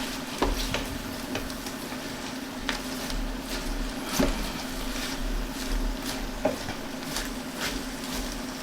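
Red cabbage is stirred in a cooking pot for German red cabbage, with soft scraping and clattering stirs repeating at irregular intervals over a steady low sizzle and hum, moderately quiet.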